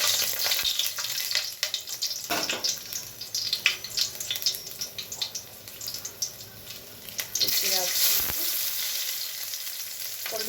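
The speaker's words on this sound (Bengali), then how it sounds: "রসুনটা একটু ভাজা হয়ে যায়" Garlic cloves frying with black cumin and a dried chili in oil for greens, a continuous sizzle with stirring, some water splashing and faint background voices.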